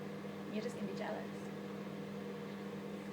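A microwave oven hums steadily while pancakes cook inside, a low, even droning tone running the whole time beneath brief, faint conversation.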